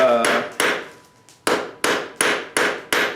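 A blacksmith hammers a scroll taper on a small penannular brooch at the anvil, six sharp metallic ringing blows in a steady rhythm after a brief pause, each decaying quickly, close and loud.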